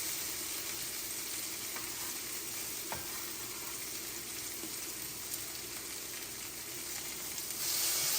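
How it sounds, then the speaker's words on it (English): Potatoes frying in melted butter in a cast iron pan, a steady soft crackling sizzle, close and fairly quiet, with a few small clinks and a slight rise in intensity near the end. "Alright, the butter is melted, so I'm going to start adding my potatoes."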